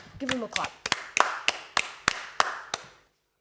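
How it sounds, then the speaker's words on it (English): A handful of sharp, evenly spaced claps ring out for a Formula 1 driver, about nine distinct near hand strikes after a brief voiced sound at the start, then silence. "Give him a clap"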